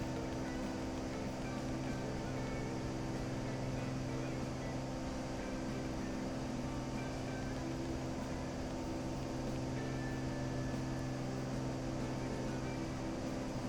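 A Cessna 400 Corvalis engine runs at high power and high RPM in Microsoft Flight Simulator 2024, producing a steady, unbroken droning hum with a constant tone throughout.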